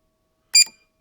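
A single short electronic beep from the buzzer of a diagnostic gadget for the Mazda MX5/Eunos Mk1/Mk2, sharp and close, isolated in silence.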